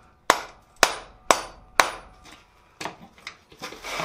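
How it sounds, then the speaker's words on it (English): Rawhide mallet striking forged blacksmith tongs: four sharp, evenly spaced blows, then several softer, irregular knocks, close and alone with no talking. "We'll also hit these. Rawhide mallet to just drive them a little closer."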